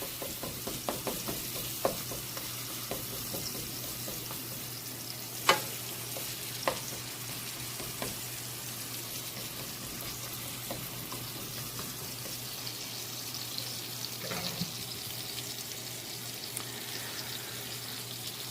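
Thin steak slices for Philly cheesesteaks sizzle in a hot pan, a steady close hiss that runs throughout, broken by a few sharp clanks and scrapes of a utensil.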